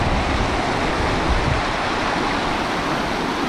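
Steady, full rush of creek water flowing over rocks at Đá Giăng stream in a camping area, a continuous broadband wash that stays loud and even throughout with no voices.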